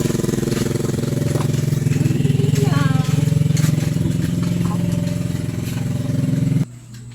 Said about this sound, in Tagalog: yan na po yung nagawa nating homemade na cement mixer